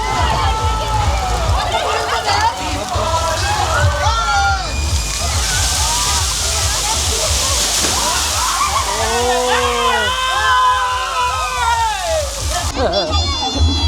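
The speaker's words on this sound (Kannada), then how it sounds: "ನೋಡಿ ಮೇಲೆಯಿಂದ ನೀರು ಬೀಳೋದಕ್ಕೆ ವೆಯ್ಟ್ ಮಾಡ್ತಿದ್ದಾರೆ ಇಲ್ಲಿ" Water at a water park pours down from above, sloshing and splashing heavily and continuously, with lively voices and shouting mixed over the rushing surge.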